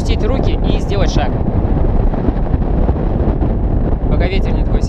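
Strong wind buffets an outdoor microphone at a 50-metre height, a loud continuous roar with gusty low rumble throughout, while faint voices come through beneath it.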